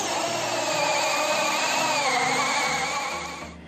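An electric drill bores steadily into ceramic tile with a loud, close, continuous grinding whine that wavers slightly in pitch and eases off near the end.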